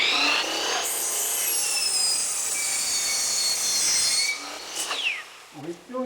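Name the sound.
saw taking a thin shave off a wooden board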